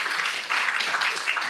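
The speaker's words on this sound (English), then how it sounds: "Little applause for that" Dense, steady audience applause fills a town board meeting hall, loud and continuous throughout with no voices rising above it.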